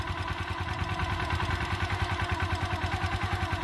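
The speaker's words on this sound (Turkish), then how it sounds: "Gaz versene şu motora" A motorcycle engine runs steadily near the microphone during clutch practice, its low, pulsing idle rising and falling slightly with throttle, with a rhythmic mechanical chug and no speech over it.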